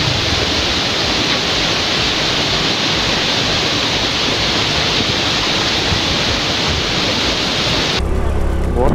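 A waterfall in Sri Lanka's Matale hills, on the road toward Kallebokke, roars loudly and close by as a steady, unbroken wash of rushing water.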